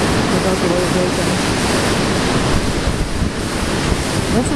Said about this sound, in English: We go out to the pier in a minute with those waves breaking.